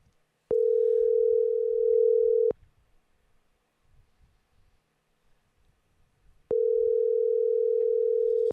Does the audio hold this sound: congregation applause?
no